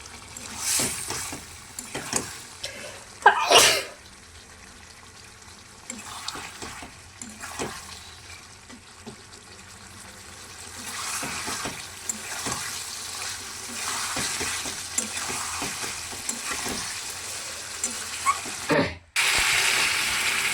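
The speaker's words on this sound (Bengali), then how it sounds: "এগুলো আলু পটলগুলোকে দিয়ে এবার নাড়াচাড়া করে নেব, ভালো করে এটাকে কষিয়ে নেব" Potatoes and pointed gourd are stirred and fried in a pan, giving a faint, low sizzle with scattered scraping and clinking of a spatula, a few sharper knocks, and a brief louder burst near the end.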